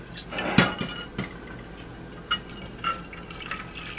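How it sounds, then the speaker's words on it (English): Simmered blackberry liquid being strained back into a saucepan, with a sharp metallic clink of the pan early on, a soft pouring trickle, and a few faint utensil taps afterward, no talking. "So now I'm supposed to strain it back into a saucepan."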